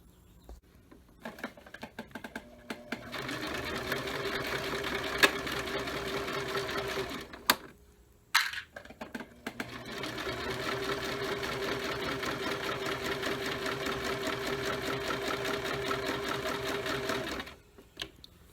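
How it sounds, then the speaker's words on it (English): A sewing machine stitching fabric for an under quilt protector, running in two long steady stretches of fast rhythmic clatter, separated by a brief stop, heard close with no speech over it. "Keep sewing, keep sewing, keep sewing."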